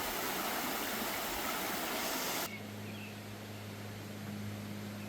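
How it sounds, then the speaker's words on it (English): Holly River water flowing steadily as a broad, continuous rush, loud at first, then quieter and more distant after an abrupt drop halfway, with a low steady hum underneath. "it was good to hear the water."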